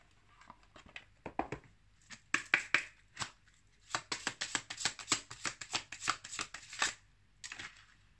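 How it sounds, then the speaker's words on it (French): Oracle cards of little angel prayers are shuffled by hand, giving quick rapid riffling and slapping flutters in bursts with short pauses, close and fairly quiet. "On va maintenant prendre une carte de mes petites prières aux anges pour faire le plein d'amour."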